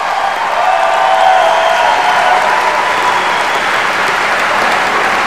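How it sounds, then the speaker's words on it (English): A large crowd at a Jefferson-Jackson Dinner political event gives loud, dense, continuous applause for Tim Kaine, with a faint undercurrent of cheering throughout. "Give a big round of applause to Tim Kaine"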